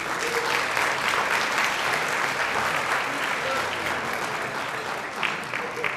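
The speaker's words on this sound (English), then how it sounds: "We have a hand of applause" Sustained applause from a large crowd, a dense steady clatter of clapping hands that holds for the whole stretch before easing slightly at the end.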